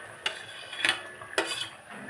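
Ridge gourd tipped into a pan of boiled potatoes and stirred, giving three distinct metallic scrapes and clinks of a spoon against the pan, fairly quiet and spaced apart, with no talking.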